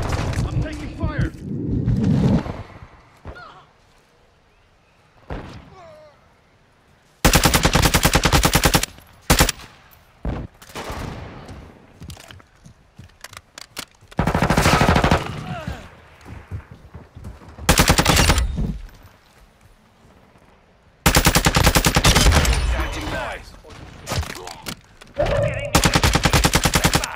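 Loud bursts of machine-gun and rifle fire in Call of Duty: Modern Warfare II, arriving in several heavy, rapid volleys separated by quieter stretches where voices talk over distant shots.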